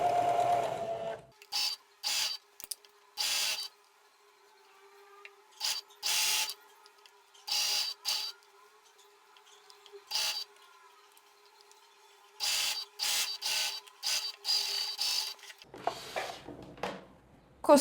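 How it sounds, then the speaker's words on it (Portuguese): Sewing machine stitching a ruffle onto a blouse armhole, heard as a series of short separate bursts with quiet pauses between, close and clear, with a little voice at the very start and end. "E vamos costurar babado com a nossa cava."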